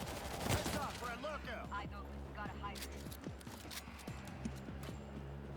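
Gunfire rattles through a World War Z co-op match, with bursts of rapid shots and scattered single cracks under excited player chatter and game effects.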